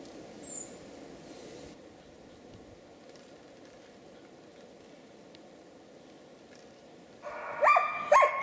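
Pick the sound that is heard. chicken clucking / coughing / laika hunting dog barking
laika hunting dog barking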